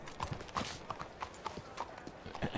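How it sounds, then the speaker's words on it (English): Horse hooves clip-clop in a steady walking rhythm, about eight clear hits, crisp and fairly close with faint background noise. "That's a horse."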